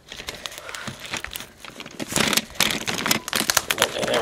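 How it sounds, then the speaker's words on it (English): A knife slicing open a package, with rustling, crinkling and tearing of wrapping material in irregular bursts that grow louder and busier toward the end, close by with no talk. "So set this down and get on my knife and let's cut this open."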